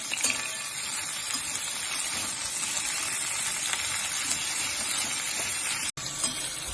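Capsicum frying in a hot pan for bisi bele bath, making a loud, steady, close sizzle that crackles continuously and cuts out for a moment just before the end.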